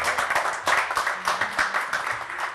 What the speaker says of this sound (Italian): Fate pure l'applauso così si sente